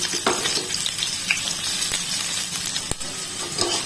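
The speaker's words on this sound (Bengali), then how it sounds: "তো এই তেলের মধ্যে আমি পেঁয়াজ কুচিগুলো দিয়ে ভেজে নেব।" Chopped onions frying in a little leftover oil from frying okra for masala bhendi, a steady close sizzle with a few light clicks of a spatula against the pan, no voices.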